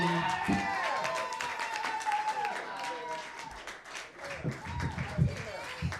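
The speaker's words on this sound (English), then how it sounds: "Another round of applause for Miss Monie Mon." A comedy club audience at a dive bar applauds a comedian, a broad wash of clapping that runs throughout while a voice talks over it.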